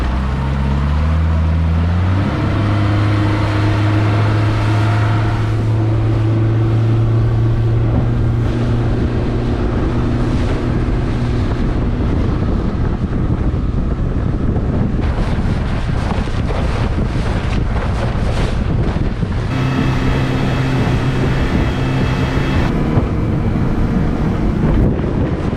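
Heavy wind buffets the microphone on a small 17 ft fishing boat heading into the wind offshore, a loud constant roar with a low engine drone beneath and splashing water, no voices.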